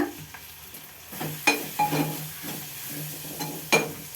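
Onion pieces being stir-fried for gongura curry, with close sizzling in a pan and several sharp spatula scrapes and knocks against the metal, sounding alone without speech.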